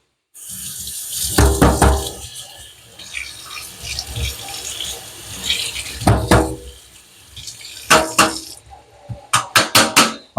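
Running tap water splashes over a kitchen strainer as it is rinsed, a close, steady gush broken by clattering knocks of the strainer against the sink, ending in several sharp taps.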